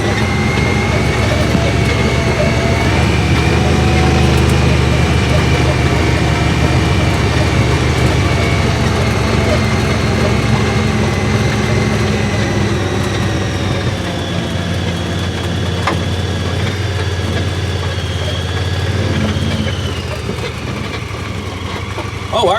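Vehicle engine idling and then pulling away on a rural hunting outing, a steady low rumble carrying on close by with a slight rise in the middle, and people talking over it at times.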